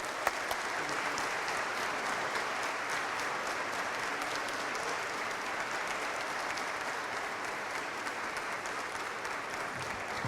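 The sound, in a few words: audience applause for the speaker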